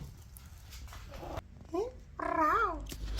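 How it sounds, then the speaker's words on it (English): A cat purrs with a low, close, continuous rumble, broken by a few short rising meow-like calls, while someone speaks softly nearby. "Notice the tone of the purr before I fed him."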